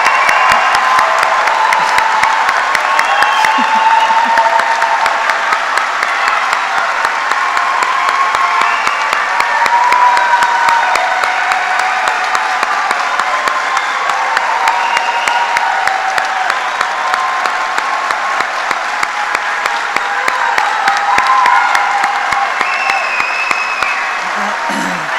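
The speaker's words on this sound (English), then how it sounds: "let's give a round of applause to our Hooders" Large crowd at a veterinary medicine oath and hooding ceremony applauding and cheering the new graduates, sustained loud clapping with scattered whoops and shouts running continuously for the full stretch.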